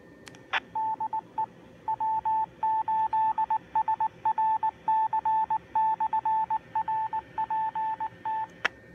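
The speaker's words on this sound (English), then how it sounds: "So now you'll hear the repeater ID." A Yaesu DR-1X System Fusion repeater sends its ID as a quick string of clipped, beeping tone bursts in an irregular code-like rhythm, bracketed by short clicks at the start and end, fairly faint and clear with no speech.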